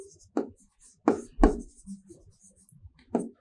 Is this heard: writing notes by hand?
yes